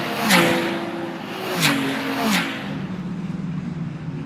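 Ferrari Challenge race cars scream past on the Sonoma track in quick succession, each engine note rising and falling as it goes by, with steady crowd and wind noise underneath.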